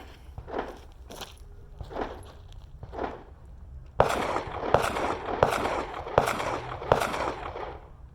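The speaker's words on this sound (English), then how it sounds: "fire 3 rounds right-handed, 3 rounds left-handed in 6 seconds" A handgun is drawn from concealment and fired right-handed and then left-handed during a timed FBI qualification drill. A few soft shuffling thuds come first, then a quick, evenly spaced string of loud, sharp reports.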